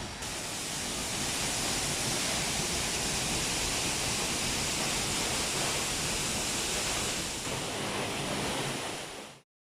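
Waterfall at Tetebatu on Lombok, Indonesia: a loud, dense, unbroken roar of falling water heard up close, steady throughout before cutting off abruptly at the end.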